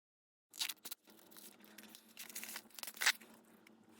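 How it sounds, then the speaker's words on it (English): Packing tape pulled off a package box, heard as close, quiet ripping and crinkling strips in short uneven pulls, with one sharper tear near the end. "struggled to get the tape off"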